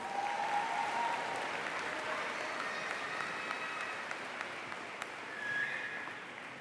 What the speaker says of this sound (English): Please give Victor Asoka another round of applause.